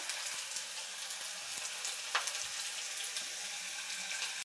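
Potatoes and tomatoes fry in a pan with a steady, bright sizzle, and a few soft clinks of stirring sound through it. The sizzle is quiet and close.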